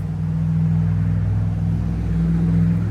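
A 1965 Oldsmobile Starfire with dual exhaust idles steadily close by, a deep, even low rumble with a faint hum and no revving, and no one talking.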